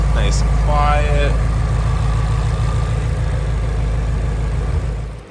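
A Shelby GT350 strapped down on a dyno idles with a deep, steady low rumble and constant mechanical whir, loud and close, while a voice talks briefly near the start before the sound fades at the end.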